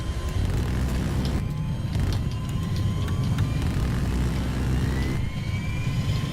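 Jet aircraft engine in Battlefield 4, a steady, loud roar with a rising high whine sweeping upward, continuous throughout with a few brief crackles layered on top.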